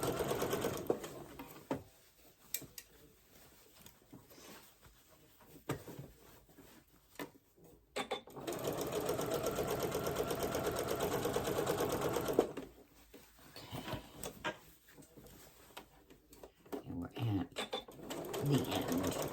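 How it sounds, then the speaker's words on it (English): A domestic sewing machine stitches a New Look 6871 garment, its motor whirring in a steady, close hum in bursts of several seconds with pauses between them, while a person talks during the quieter gaps. "start sewing again"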